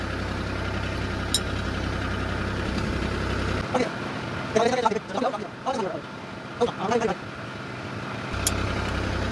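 A tractor engine idles without load, a steady low, even rumble, while people talk nearby over the running motor.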